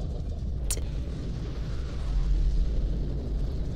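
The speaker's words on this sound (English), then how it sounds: "that's possible from only one bomb to have an explosion like that?" A bomb explosion from the action film The Rock: one sharp crack followed by a heavy, sustained low rumble that swells and rolls on, loud and close.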